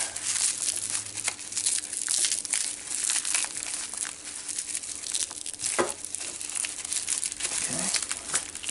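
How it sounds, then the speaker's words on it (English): Tape is peeled off a package at close range, a steady crinkling, crackling rustle that runs throughout with no talking. "find where the tape is, peel the tape off"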